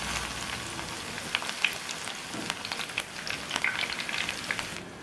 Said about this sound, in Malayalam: ഇനി നമുക്ക് വെളുത്തുള്ളി തോലോട് കൂടെ ചതച്ചിട്ട് കൊടുക്കാം.